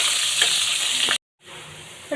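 Chopped garlic sizzles steadily in hot oil with dried red chillies, bay leaf and cumin, stirred now and then. A brief silence breaks the crackle before it resumes at a lower level.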